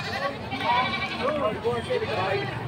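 A Boer goat bleats several times in quavering cries close by at a livestock sale, while people talk over and around the calls.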